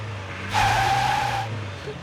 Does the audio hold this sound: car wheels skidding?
yes